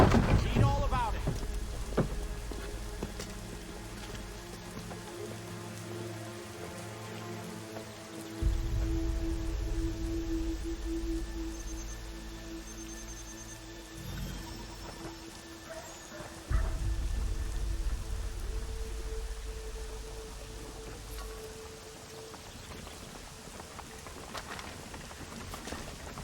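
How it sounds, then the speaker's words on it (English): Steady video game rain hisses and patters throughout, with low rumbling swells and occasional tonal game sounds layered over it. "Rain happening."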